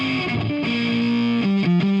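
A guitar runs through two stacked Ampire amp simulators in Studio One for a heavy, saturated crunch: a loud, sustained distorted chord with a few quick note changes near the end.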